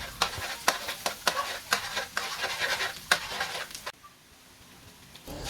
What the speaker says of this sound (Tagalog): Tapos igisa na natin yung maraming bawang.